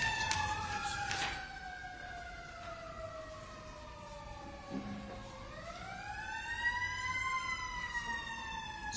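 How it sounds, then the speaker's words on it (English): Emergency vehicle sirens wail with rising and falling tones, several overlapping sweeps heard from a moderate distance over faint traffic rumble. "Sirens are at least interesting."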